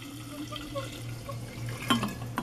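Liquid methanol is poured into a larger glass jar, a soft trickling and splashing stream with a brief clink of glass near the end, close and fairly quiet.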